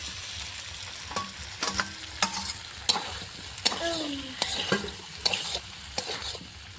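Fried potatoes added to a spice masala browning in oil for a Bengali rohu fish and cauliflower curry, with a low sizzle under repeated sharp scraping and clinking strokes of a spatula stirring the pan.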